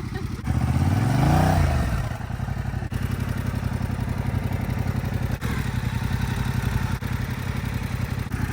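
A 2023 Yamaha Tracer 7 GT in Midnight Black revs and pulls away through a tight U-turn on a narrow path, its engine rising loudly early on, then settling into a steady close mid-pitched drone that runs to the end.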